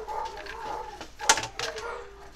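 Several neighbourhood dogs barking outside an open window, a mix of yips and barks with one sharp loud bark midway, moderately near and fairly continuous.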